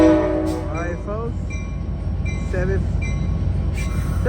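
Amtrak San Joaquin train #715 with an F59PHI locomotive departs Emeryville station, a low steady rumble of rolling cars and wheel noise up close, with squeals and whistle-like tones, while a voice talks over it.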